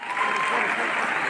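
Audience applause at a Best Teacher Award function in Gudalur and Ooty: a close, dense wash of many hands clapping together, holding steady and loud for the full moment.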